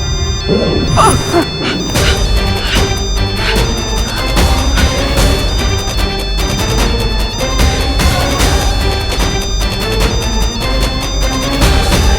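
A glass wall smashing in a TV fantasy drama scene, heard as loud repeated crashes and thwacks under a dense, continuous dramatic music score throughout.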